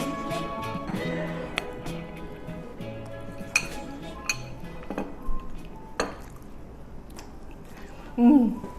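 Someone eats Swiss cheese fondue: light clinks of forks and dishes, then quiet chewing and biting sounds, close by and interspersed with talking.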